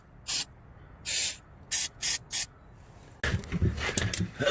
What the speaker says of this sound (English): Spray a little bit of this on the contact points for the battery.